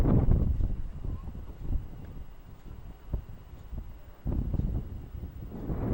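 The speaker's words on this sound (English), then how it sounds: "You can see the wind's picking up here." Gusty wind buffets the microphone in uneven low rumbling bursts during a Can-Am Ryker ride, rising and falling with no voices present.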